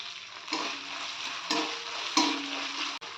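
Chopped tomato hitting hot spice paste in oil for an egg curry, with a steady soft sizzle broken by three or four scraping stirs of a spoon in the pan, close up with no voices.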